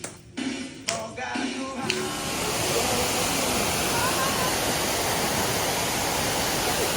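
Heha Waterfall at Puncak Cisarua pours as a broad, steady rush of falling water that swells and then holds constant, following a few seconds of brief voices and light noises.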